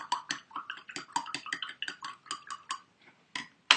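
Aloe vera pulp is stirred in a container, giving a quick series of wet clinks and scrapes in an uneven rhythm. The sounds are close and moderately loud, with a brief pause before a sharper knock at the end.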